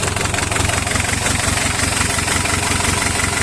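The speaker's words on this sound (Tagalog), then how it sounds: "Ganda ng andar o. Walang usok, walang blow by." An Isuzu 4BA1 diesel engine idles steadily up close, a loud, even low rumble with a fast regular knock and vibration running the whole time, no voices.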